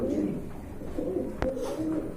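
A pair of pigeons coos softly and repeatedly in low rolling phrases, close by, with steady background murmur and one sharp click partway through.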